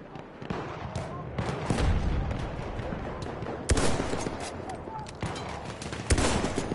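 Gunfire crackles through a Battlefield 1 sniper match, with sharp shots and bursts of distant fire and explosions layered over a busy battlefield, while players talk over it.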